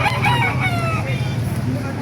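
A rooster crows nearby at a chicken market in Baliuag, Bulacan, a drawn-out cock-a-doodle-doo with other fowl clucking and voices in the background.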